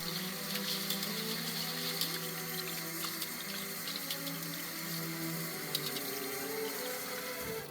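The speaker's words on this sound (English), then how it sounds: "Cover the rice with water one more time." Tap water running into a bowl of rice to cover it for rinsing, a soft steady splashing stream with faint gurgles, quiet and close.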